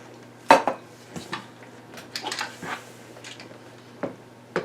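A metal Instant Pot inner pot is handled during unboxing, giving a few sharp metallic clanks and lighter clinks spaced irregularly over a quiet background hum.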